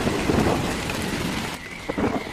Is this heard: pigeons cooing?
no